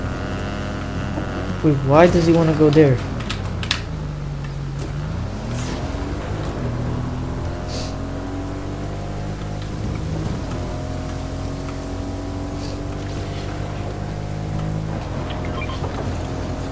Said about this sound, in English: You got a motorcycle.